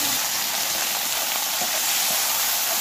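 Ivy gourd sizzles and fries in a pan on a large stove, a steady dense hiss of oil and steam that holds throughout with no pauses and no talking.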